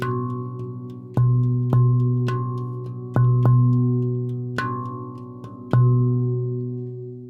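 A handpan plays a 4/4 rhythm with up-beat accents: sharp struck notes ring out with long, warm decays, each new accent landing as a louder hit. It is played solo with no voices.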